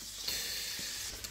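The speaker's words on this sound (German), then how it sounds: "Ich gehe die jetzt erstmal anbraten" Hamburger steaks sizzle in a hot frying pan, a steady, close hiss with faint crackles and no talking.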